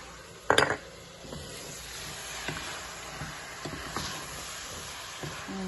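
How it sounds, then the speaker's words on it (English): Beef stew with potatoes, carrots, curry powder and spices being stirred in a pot on the stove, opening with a sharp clatter of a utensil against the pot, then soft scraping stirs over a low steady hiss. "just continue to stir everything together"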